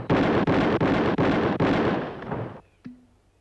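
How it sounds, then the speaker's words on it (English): A pistol fires five loud, close shots in a rapid, even string during a shooting contest, followed by a brief quiet and a small metallic tap. "5 shots, 5 seconds."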